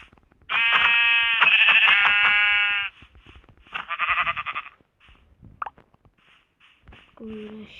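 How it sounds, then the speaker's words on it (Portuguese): Sheep bleating in a Minecraft morph mod game, a long loud bleat followed by a shorter one, then scattered small game sound effects and a brief voice. "Uma ovelha."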